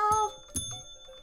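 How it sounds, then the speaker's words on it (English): A small bell rung in the video game Minecraft, two bright metallic dings in quick succession, close and clear, the second ring fading out with a lingering shimmer. "Ring that little bell."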